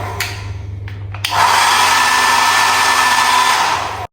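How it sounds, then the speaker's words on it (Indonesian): A hotel bathroom hair dryer starts after a few clicks and switching noises, then blows loudly and steadily for about three seconds before cutting off abruptly. "ini hair dryernya nyala dan bisa dipakai setelah keramas"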